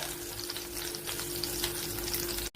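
Bitter gourd frying in a pan of curry gives a soft, continuous sizzle, ending in a brief knock and a sudden drop.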